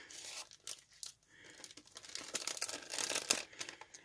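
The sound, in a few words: tearing open paper wrapping of mail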